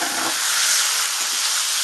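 Mutton hitting a hot pan of sautéed ginger and garlic for a Bengali-style curry gives a steady, bright sizzling hiss, close and continuous, with no voices.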